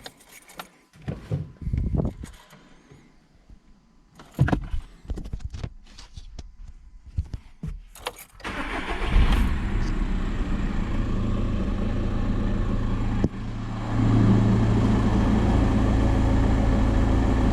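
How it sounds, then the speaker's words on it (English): A 2000s VW Golf 5 1.9 TDI diesel engine cranks and catches after some handling noises, then settles into a steady, loud idle that continues to the end. "Now I'm going to start the engine."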